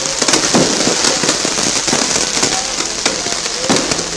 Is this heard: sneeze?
no